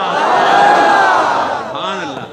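A large crowd at a religious gathering raises a loud, sustained chant of a religious slogan, a dense roar of many voices that swells and then fades over a couple of seconds.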